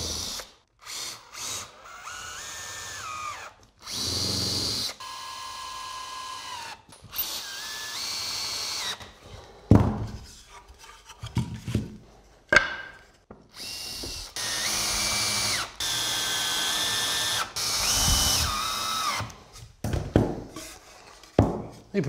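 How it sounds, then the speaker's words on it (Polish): A power drill drives screws into a wooden key cabinet during assembly, running in repeated loud whirring bursts of a few seconds each, with short pauses and knocks between them and no talk. "I teraz za pomocą wkrętów składamy konstrukcję naszej szafy."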